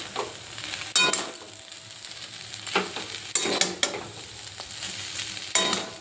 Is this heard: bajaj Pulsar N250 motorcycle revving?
no